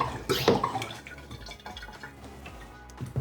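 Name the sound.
LifeSaver jerrycan filtered water flowing out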